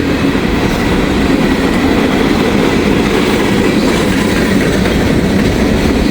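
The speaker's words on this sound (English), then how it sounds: "Got ourselves a nice long train here." A long train rolls past steadily on the tracks at Glendale, loud and close, a continuous rumbling roar with wheel clatter throughout and no voices.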